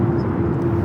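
A Boeing 787-8 Dreamliner at Los Angeles International Airport, heard as a steady, loud jet-engine roar with a deep rumble that holds evenly throughout.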